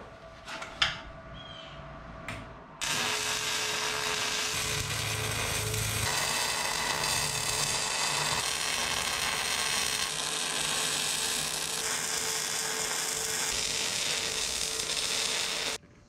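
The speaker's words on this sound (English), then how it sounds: "It's time to do some welding." Welding a trailer hitch together from scrap metal on an abandoned 1980 Datsun 720 pickup: a steady, loud crackling hiss that starts abruptly after a brief quiet moment and runs continuously to the end.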